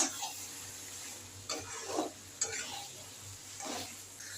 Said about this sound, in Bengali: আমি একটু নেড়ে নেব।